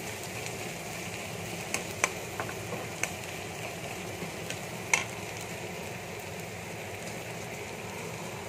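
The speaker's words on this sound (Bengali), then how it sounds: "এভাবে পুরোটা ভেজে নেব একটু হলুদ নুন দিয়ে" Onions frying in a pan with turmeric and salt give a soft, steady sizzle, low and even, broken by a few faint clinks of stirring, with no voices.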